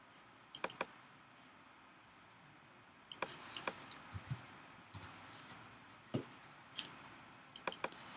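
Computer mouse clicks sound as sharp, quiet ticks in small scattered groups of one to three, spread with pauses over a few seconds against a low room hush.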